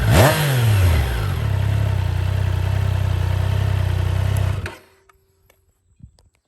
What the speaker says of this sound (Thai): ในส่วนของเสียงของเครื่องยนต์ของ Triumph Tiger 660 ครับ